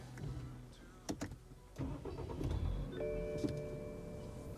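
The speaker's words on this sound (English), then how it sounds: "Now let's start the car." A car's engine cranks and catches after a push of a newly installed start/stop button, preceded by a few clicks and followed by a steady idle hum with a faint whine.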